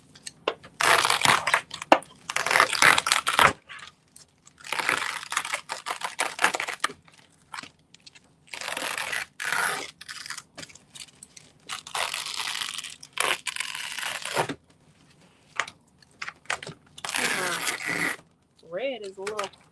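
Red heat-transfer vinyl is peeled away from its backing after being cut on a Loklik cutting machine. It makes bursts of crisp crackling and crunching with short pauses between pulls, and a person talks in the quieter gaps.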